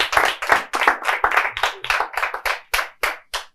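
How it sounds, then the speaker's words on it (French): An audience applauds at a Saturday evening show, a steady patter of many hands that thins toward the end into a few separate claps. "Super, on applaudit"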